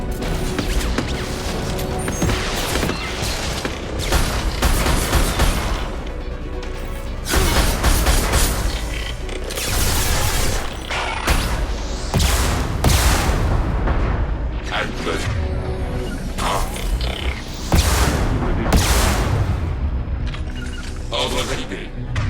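Hijacked turret fire in the Mass Effect 2 video game, loud repeated booming bursts and crashing impacts in a dense, continuous barrage, with in-game voices speaking over the combat.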